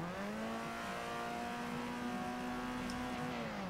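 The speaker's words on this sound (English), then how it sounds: "I'm in a 1986 Honda Civic Si right now, and this thing is slow." A 1986 Honda Civic Si engine in Forza Horizon 2 drones at steady revs, a continuous buzzy tone holding level and dipping slightly near the end, loud and alone.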